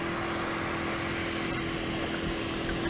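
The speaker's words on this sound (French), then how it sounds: "On entend un avion, c'est vrai." A propeller airplane drones overhead as a steady, loud, continuous engine hum with a constant tonal whine, unbroken throughout.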